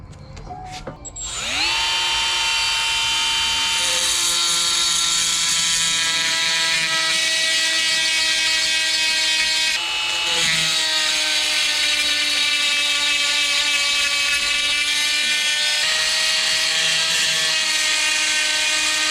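A power tool drills and cuts into a metal engine part to form a woodruff key slot, a steady high-pitched whine that spins up and holds for most of the stretch, close and loud, with no voices.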